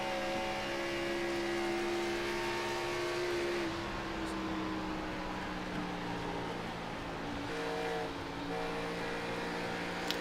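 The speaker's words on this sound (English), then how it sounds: "You hear him kind of getting off the throttle just a little bit more than he was" An IROC race car engine droning at Charlotte Motor Speedway during a Dash-4-Cash race, a steady tonal whine that drops in pitch partway through as the driver eases off the throttle, then holds lower, heard from a distance.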